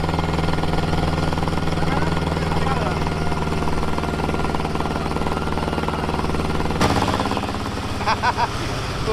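The engine of a small mini boat near Maheshkhali island, Bangladesh, drones loud and steady close by, its tone shifting and a few knocks sounding toward the end.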